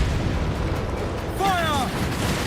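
Cannon fire rumbles in the Assassin's Creed Black Flag video game, a dense, continuous barrage of deep booms during a naval battle, with a voice shouting partway through.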